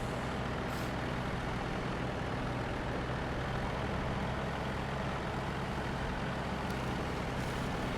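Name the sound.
heavy truck engine straining uphill with trailer in Snow Runner video game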